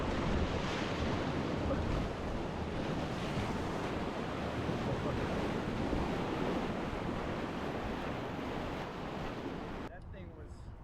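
A desert river runs at flood stage through big standing waves, giving a loud, continuous roar of rushing water and surf-like churning close by, with wind buffeting, before it drops off sharply near the end.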